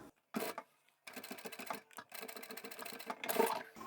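A home sewing machine stitches across a fabric lanyard in quick rattling bursts, a short run, a pause, then a longer steady stretch of close mechanical clatter.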